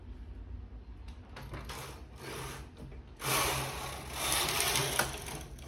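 A knitting machine carriage slides across the needle bed for a sweater top, giving a close rasping, rattling mechanical run that grows louder and fuller midway, with no talking.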